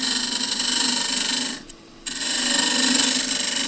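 A lathe tool peels down an endgrain wooden box as it spins, giving a continuous close scraping hiss that breaks off briefly partway through and then resumes.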